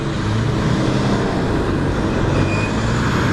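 A truck passes on a road, a loud broad rumble of engine and tire roar swelling up close and holding for a few seconds, with no voices over it.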